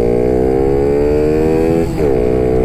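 A Honda Monkey motorcycle engine revving steadily and loudly up close, its pitch holding high before dipping briefly and climbing again, ridden on a snowy day.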